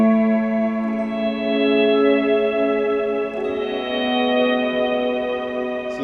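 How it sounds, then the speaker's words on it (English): Sustained, layered worship-style guitar swells ring out with long reverb decays and long delay repeats, a steady wash with no talking. "longer decays from your reverb, and then longer repeats from your delay"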